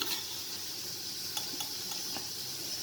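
Rice being stirred in a pot while making beef biryani, with quiet scraping and light clinks over a faint steady sizzle, soft and close.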